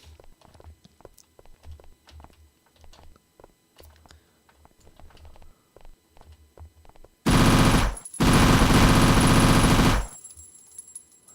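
Enemy gunfire rattles in the video game Travelers: scattered soft taps and footsteps give way to two long, loud bursts of rapid automatic fire separated by a brief pause.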